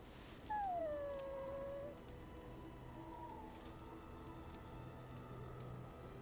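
Dog in Dragon Age: Origins giving a loud, drawn-out whimpering howl that rises and then slides down, fading after about two seconds into quiet game ambience.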